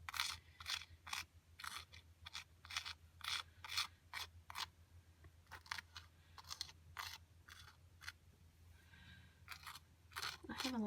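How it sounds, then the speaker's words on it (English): Powder from a Japanese DIY candy kit is scraped aside on a small tray with a tool, giving a quiet series of rhythmic rasping strokes close up, with a brief pause before the scraping resumes. "So I'm just going to kind of scrape it to the side here."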